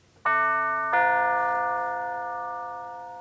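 Tubular bells sample triggered from a drum pad in a MainStage setup, two clear bright chimes struck in succession, ringing out and slowly decaying, with no talking.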